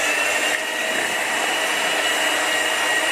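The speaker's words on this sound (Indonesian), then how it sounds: "Kocok dengan kecepatan tinggi ya" An electric mixer whirs steadily at high speed, beating eggs and sugar for a cake batter, a close, constant high-pitched hum with no talking.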